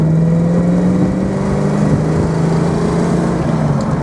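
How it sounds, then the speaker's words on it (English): A 1966 Sunbeam Tiger Mk 1 V8 roars continuously under acceleration, a loud, steady engine drone with rising pitch as it pulls strongly through the gears, heard from inside the car with no talk. "Roaring traction, up through the gears, pulls strong. Top gear, accelerating well."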